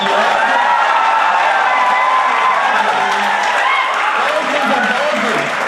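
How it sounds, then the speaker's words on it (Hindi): An audience at a Hindi poetry recital at SKIET, Kurukshetra claps and cheers loudly, a thick, continuous roar of applause with raised voices and whoops mixed through it. "बजाओ सारे ताली।"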